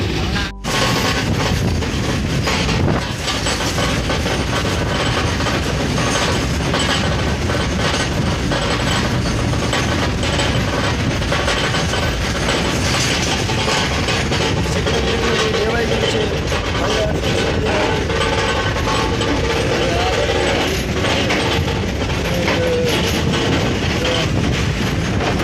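A RoRo train runs on rails between Kolad, Mumbai and Surathkal, giving a loud, continuous rumble with rhythmic clacking and metallic rattling heard from on board, steady for the whole stretch.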